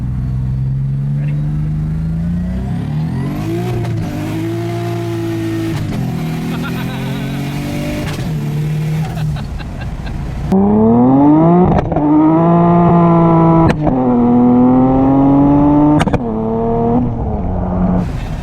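A turbocharged 1990 BMW E30 engine revs and accelerates hard, loud and close, with rising pitch sweeps through several gear changes and a brief lull before a louder, harder pull.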